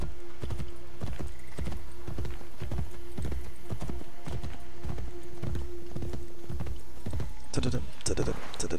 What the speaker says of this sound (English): Alright, I can get off my horse now.